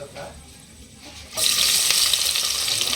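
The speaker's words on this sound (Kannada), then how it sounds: "ಹಾಕ್ಕೊಂಡು ಎಣ್ಣೆದೊಳಗೆ ಫ್ರೈ ಮಾಡ್ಕೊಳ್ಳೋಣ್ರಿ ಇಲ್ಲಿ ನೋಡ್ರಿ ಇವಾಗ ಉಳ್ಳಾಗಡ್ಡಿ ಎಲ್ಲ ಎಣ್ಣೆದೊಳಗೆ ಮೆತ್ತಗಾತ" Chopped onions dropped into hot oil in a pressure cooker, starting as a quiet hiss and then bursting into a loud, steady sizzle that holds to the end.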